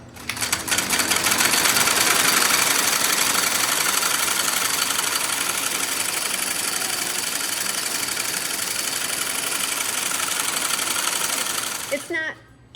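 A fiber drafting machine runs at a yarn mill, combining three slivers at once and drawing them thinner, with a coiler head. It gives a loud, steady, dense mechanical rattle and whir that holds for several seconds before cutting off near the end.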